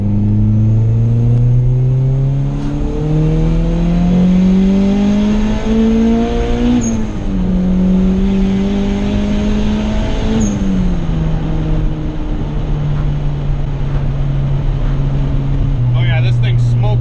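A loud turbocharged Acura Integra GSR engine revving up through the gears on the street at low boost, pitch climbing and dropping with each shift, steady and close for the whole stretch.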